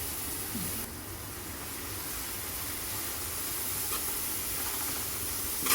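Grated carrot sautéing in ghee for carrot payasam, a faint, steady sizzle and hiss with no talk.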